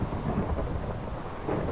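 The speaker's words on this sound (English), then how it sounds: "that thunderstorm is crazy." Thunder rolls through a rainstorm in the Minecraft video game, a steady low rumble with rain hiss, fairly loud and continuous with a slight swell near the end, no talking.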